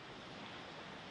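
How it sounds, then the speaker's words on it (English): A soft, continuous rush of ocean surf, a low broad roar of water without breaks, fairly faint and steady throughout. "Waves are carried across the ocean by the water."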